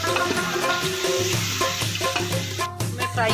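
Masala with tomatoes frying in a pan while a spoon stirs it, a continuous close sizzle with scraping strokes layered over it.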